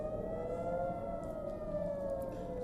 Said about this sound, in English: alerts and sirens are sounding across the Gulf and the Israel